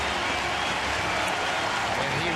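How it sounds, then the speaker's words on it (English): Blue Jays fans at a baseball game on Jackie Robinson Day give a steady round of applause, a dense wash of clapping and crowd noise that holds evenly throughout, with faint voices mixed into the stadium din. "there's the Blue Jay fans giving him a round of applause and showing their appreciation"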